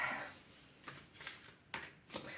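Tarot cards being shuffled up close, several quick riffling bursts separated by short pauses, fairly quiet with no talking.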